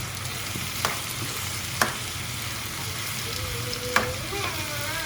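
Potatoes for a Spanish omelette fry in a pan with a steady, close sizzle, broken by a few soft knocks of a utensil stirring them. No one speaks.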